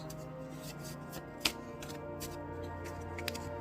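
A deck of tarot cards being shuffled close by, with soft riffling and shuffling bursts, one sharper snap partway through and quiet background hum, no speech.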